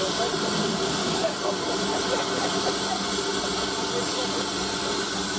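A steam train departing at the Kent and East Sussex Railway's Dwarves of Steam Gala at Wittersham Road, a loud steady hiss of escaping steam with an engine rumble beneath, and a voice speaking over it.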